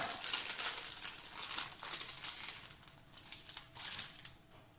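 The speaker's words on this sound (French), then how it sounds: "elle m'a mis avec un sachet comme ceci. Alors, je vais le déballer. Je m'excuse pour le bruit." Flowers being unwrapped from a plastic sachet: close, bright crinkling and rustling of thin plastic in quick irregular bursts, continuing steadily and easing toward the end.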